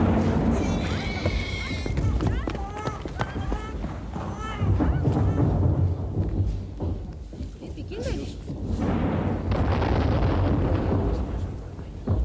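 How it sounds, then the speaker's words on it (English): Anti-aircraft guns fire in a wartime scene, with heavy booming bursts and rumble breaking out at intervals beneath agitated voices talking over them. "Anti-aircraft guns."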